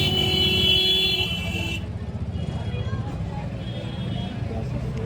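Car horns honk repeatedly amid rumbling road traffic, with a long blaring toot early on followed by busy engine noise.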